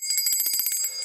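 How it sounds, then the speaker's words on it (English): A bright, metallic bell rings in a quick series of about ten rapid strikes, loud and close, its shimmering tone trailing off briefly at the end. "let's ring the bell"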